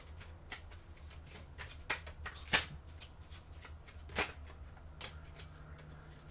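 Tarot cards shuffled and drawn by hand, a quiet close run of soft riffles, flicks and snaps, with a couple of sharper card slaps standing out.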